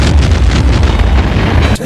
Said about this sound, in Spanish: muchas explosiones gigantescas que resultaron demasiado peligrosas